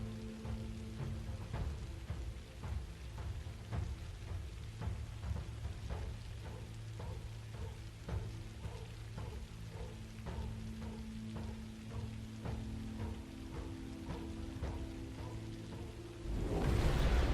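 Heavy video-game rain and flood weather pours steadily as a dense hiss of drops with faint rumbles beneath, swelling louder in the last second.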